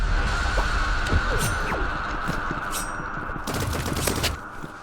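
In the shooter game Rivals, a rocket launcher fires in rapid bursts amid other battle noise, with sharp repeated blasts over a constant low game hum.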